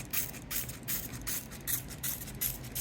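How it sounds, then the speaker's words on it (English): Hand spray bottle misting water onto a wool rug being wet-felted, five or six quick hissing sprays in a steady rhythm, close and fairly soft, with no voices. "when I spray down the rug, it doesn't wet it as much"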